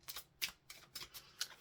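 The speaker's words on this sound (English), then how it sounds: "So let's give them a shuffle." An oracle deck of Soul's Journey Lessons cards is shuffled by hand in quiet, rhythmic bursts of papery riffling, about five soft strokes close to the listener with no talking.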